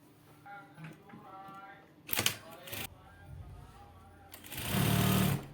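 Sewing machine stitching lining onto fabric for a travel bag, running in short bursts with a longer, louder run near the end; quiet, close, and separated by pauses and faint handling noises.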